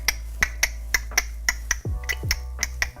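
A voice imitates a car turn signal blinker with a steady run of about ten crisp mouth clicks over three seconds, evenly spaced and close to the mic, with a short tonal sound partway through.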